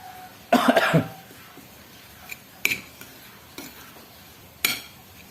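Tofu meatball dough being mixed by hand in a bowl: one louder burst of wet stirring and scraping, then a few sparse, brief clinks and knocks against the bowl, close by with no talking.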